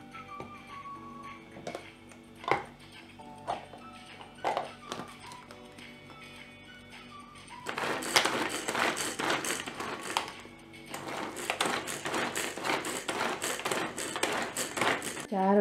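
Carrots being chopped in a Pigeon Handy Mini Chopper, first scattered clicks and taps, then a denser run of rapid rattling blade strikes and knocks as the pull-cord chopper is worked.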